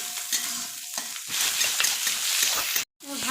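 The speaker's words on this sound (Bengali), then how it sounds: "ভাজা হয়ে গেছে, হালকা ভাজলাম" Ginger and cashews frying lightly in a pan for a paneer curry give a close, crackling sizzle with stirring scrapes, rising in intensity before a brief cut to silence and a quieter return.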